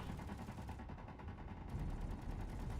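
Ship guns in Space Engineers fire a dense, continuous barrage of rapid repeated shots, loud and close, with no pause through the burst.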